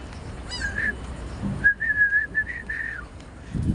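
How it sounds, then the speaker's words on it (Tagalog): A bird gives a series of loud, warbling whistled calls, a burst then a quick run of repeated notes, against faint background noise. "Oh, nag-iingay yung ibon, oh."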